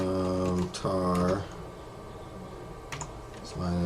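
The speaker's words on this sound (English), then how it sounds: "Let me make sure I'm typing it right." Computer keyboard keys being typed while a server migration command is entered, soft close clicks in a brief run between short spoken phrases.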